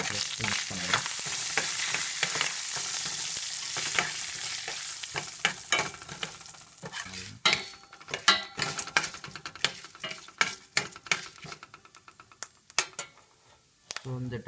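Asafoetida and turmeric powder frying in oil in a pan for lemon rice while being stirred, a steady sizzle with frequent spoon scrapes and clinks against the pan, close and continuous.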